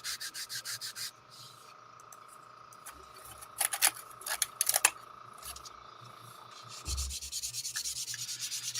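A Makita lithium orbital sander works on the plastic shuttle bay floor of a model kit, giving a quiet, steady rubbing whir with scattered clicks and taps and a brief thump near the end.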